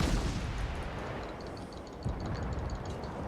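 Naval guns firing in the World of Warships game, a dense rumbling barrage of cannon booms and explosions rolling continuously at loud, steady level with no talk.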